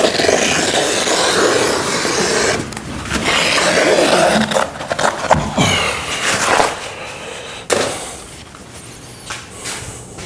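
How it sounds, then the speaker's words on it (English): Close, crunchy snips and scraping rasps of scissors cutting through heavy canvas, in uneven bursts with brief pauses between cuts. "Scissors work pretty well."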